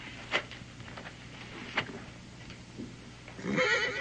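A horse whinnies faintly in the distance a couple of times, with short snorts and a rising rustle near the end.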